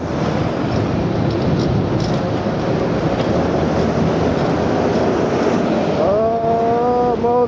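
Nanrobot N6 72V electric scooter ridden in Mode 3, heard as a loud, steady rush of wind and road noise close to the rider, with a rising motor whine climbing in pitch near the end.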